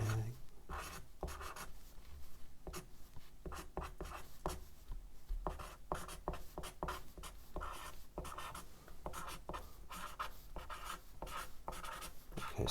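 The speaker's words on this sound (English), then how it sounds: "So I'll write that here." Chalk or marker writing on a board during a maths lecture, a continuous run of quick scratchy strokes and taps, close and steady.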